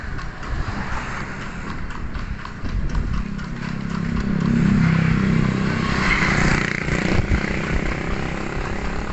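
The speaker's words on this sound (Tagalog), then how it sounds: "Ayan o, may kalesa." A horse-drawn kalesa carriage on a road, hooves clip-clopping in a steady rhythm that grows louder as it gets nearer, mixed with the hum of a nearby motorcycle engine.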